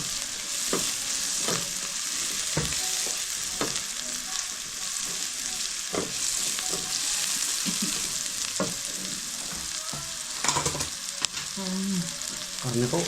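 Ingredients for a spaghetti sauce sautéing in a pan, a loud continuous sizzle with scattered clinks and scrapes of stirring, close, no talking over it.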